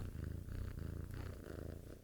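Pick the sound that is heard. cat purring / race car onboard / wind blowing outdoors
cat purring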